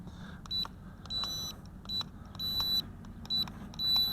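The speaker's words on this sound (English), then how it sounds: "you hear a beep when it's calibrated" An FQ777 951C camera drone gives a series of short, high-pitched electronic beeps after gyro calibration, in an irregular pattern over a faint low hum, with no talking.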